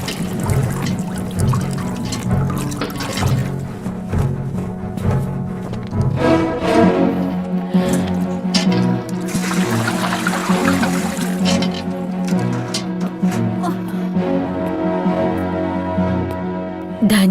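Water poured into a clay pot, a steady continuous splashing gush with rising tone as the vessel fills, loud and close, with a brighter rushing swell partway through.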